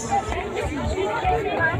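A church congregation chats and murmurs as people leave the first service, a steady close babble of many overlapping voices in a large indoor space.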